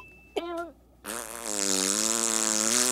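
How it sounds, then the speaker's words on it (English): Cartoon fart sound effect from SpongeBob SquarePants, a short buzzy blurt followed after a brief gap by a long, loud, droning raspberry that sustains and swells to the end. "This anteater mouth farts on for some time."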